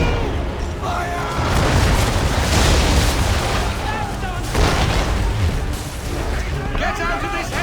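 Naval cannon volley fired from a ship in Assassin's Creed 3, heavy rumbling booms and blasts rolling one after another, loud and dense with shouted voices mixed in.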